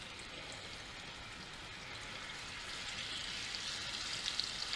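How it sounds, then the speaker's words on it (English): Fat frying in a pan ahead of browning beef for a stew, a faint, even hiss and crackle that grows slightly louder toward the end, with no talk. "So we're going to fry that off."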